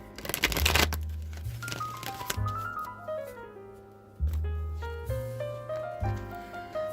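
A quick burst of tarot cards being riffled and shuffled near the start, followed by a steady melodic music bed that continues to the end.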